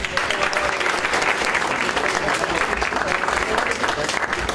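Audience applause for a guest speaker at a university business-school class, a full, dense burst of many hands clapping close by, steady and loud throughout with faint voices mixed in.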